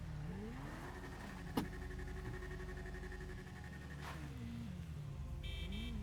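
Akuma motorcycle engine in the video game GTA, a steady mid-pitched drone with gentle rises and falls in revs, a single sharp click near the start and a short higher tone toward the end.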